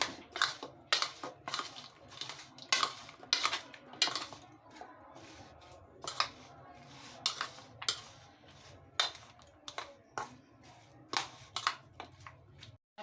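A spoon works through creamy fruit chaat dusted with chaat masala in a bowl, giving close, irregular clicks and scrapes in quick bursts over a soft background hum, with no talking.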